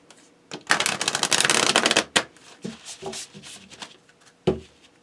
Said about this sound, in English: Pardon me while I Vegas shuffle